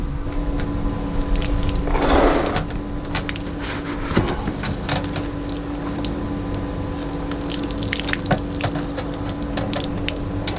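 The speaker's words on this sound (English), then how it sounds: "Alright, so I get to go ahead and turn the pump on." An RV water pump runs in a flooded RV with water flowing and mechanical clicking and rattling, a steady hum underneath and a brief splashing burst early on.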